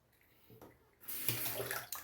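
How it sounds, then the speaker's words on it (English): Water runs from a tap during a wet shave with a Merkur 45 Bakelite razor, starting softly, then gushing louder as the flow opens up, a close steady splash. "Add some more water."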